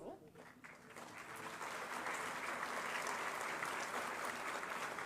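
Audience applause at a certificate distribution ceremony for newly appointed ITI instructors, starting thin and swelling into steady, dense clapping that holds to the end.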